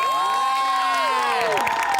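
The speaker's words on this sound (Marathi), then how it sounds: "जोरदार टाळ्या वाजवूया" Studio audience at a Marathi television comedy show applauds and cheers loudly and steadily for two seconds, with whoops and whistle-like calls rising over the clapping.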